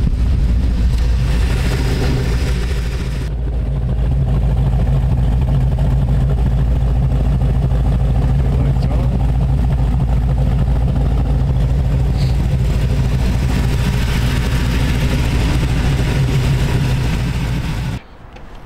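A 1932 Ford Roadster hot rod with a 350 Chevy V8 and MSD electronic ignition idling loudly and steadily, close up, with a rough rumbling burble that runs unbroken for most of the clip before cutting off.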